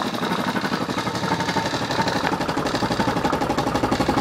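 A homemade air compressor built from a propane tank runs steadily, its motor giving a close, continuous mid-pitched mechanical drone with a fast rhythmic chug and no voices over it.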